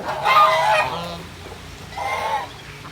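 A large goose honks loudly a couple of times, close by at a farm cafe, with harsh nasal calls separated by a short pause over faint outdoor background.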